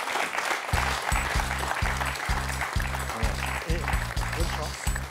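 Studio audience at a French television quiz show applauding in rhythmic, synchronized bursts of clapping, heard steadily throughout with background music or voices underneath.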